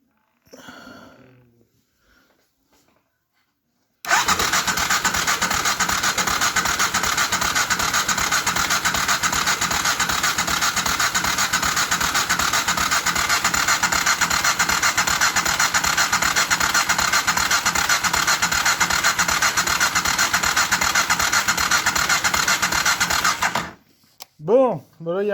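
A BMW F650 Funduro motorcycle engine started after three years idle, running loud and steady with an even rapid thumping rumble for about twenty seconds before cutting off, with brief voices before and after.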